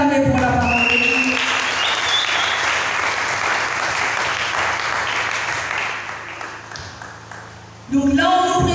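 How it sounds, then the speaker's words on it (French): A church congregation at a Sunday service breaks into loud, sustained applause that fills most of the stretch, then thins and fades before a voice speaks again at the end. "Est-ce qu'on peut acclamer pour la parole de Dieu?"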